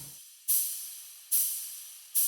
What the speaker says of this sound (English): Then I have this ride sample.